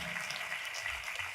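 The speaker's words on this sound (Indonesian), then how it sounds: "Kalau mau tepuk tangannya lebih dahsyat lagi." A church congregation claps, dense and sustained, with many hands blending into an even roar that is close and steady throughout.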